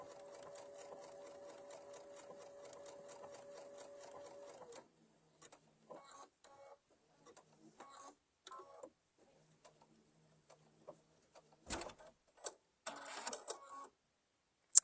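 An embroidery sewing machine stitches out a design with fast, rapid needle chatter for several seconds, then stops and gives short intermittent bursts of stitching, clicks and a brief thump, quiet and close.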